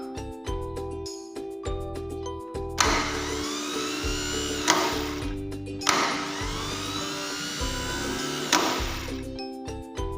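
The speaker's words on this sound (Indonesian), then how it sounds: "Starter bekerja dengan baik." A car starter motor is tested in repeated bursts: two long whirring, grinding spins of a few seconds each alternate with a steady pulsing hum, fairly close and moderately loud, with no voices.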